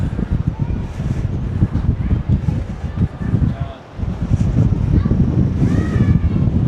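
Gusts of wind sweeping through a small valley or gulch on the Malahat SkyWalk hike on Vancouver Island, buffeting the microphone in a loud, rumbling roar that dips briefly midway and then swells again.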